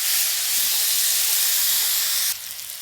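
Grated onion hits hot oil in a pan, giving a loud, steady broadband sizzle that drops abruptly in level near the end.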